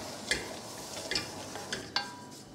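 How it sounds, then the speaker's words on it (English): Flour being stirred into melted butter for a bechamel roux makes a soft steady sizzle, with four or five light spoon ticks against the pan. "I'm just going to add my flour now, and we're just going to stir that up"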